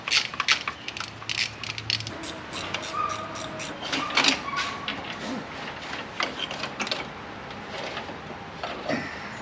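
A ratchet clicks in quick bursts while undoing four bolts on the carburetor of a 69 Mustang that sat in a garage for 30 years, the sharp metallic clicks coming close with pauses between them.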